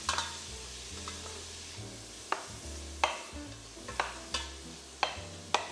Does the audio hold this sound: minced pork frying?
yes